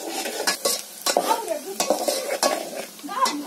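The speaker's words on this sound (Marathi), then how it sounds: "त्याच्यात थोडीशी हळद टाकली तर हळद टाकून सगळं मिक्स केलं" Red masala and turmeric being stirred in a frying pan, close scraping and clattering strokes of a spoon against the pan in an uneven rhythm over a soft sizzle, no voices.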